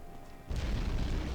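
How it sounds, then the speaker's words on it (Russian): In the video game Morrowind, a sudden deep boom bursts in halfway through and rolls on as a heavy, rumbling explosion, after a quiet low hum. "Снова взрыв."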